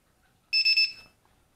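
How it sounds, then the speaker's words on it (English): A low-voltage alarm on a two-cell battery for a 3D X6 flying drone gives three quick, shrill electronic beeps in a tight burst, then falls silent in a quiet room. "I recommend a low voltage alarm here."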